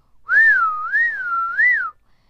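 A single clear, loud whistled tone gliding smoothly up and down in a wavering melody, close by, with no talking.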